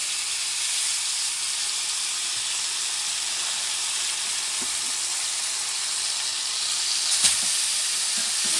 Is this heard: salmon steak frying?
yes